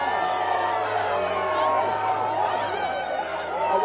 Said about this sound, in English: People are booing the police, surrounding the vehicle.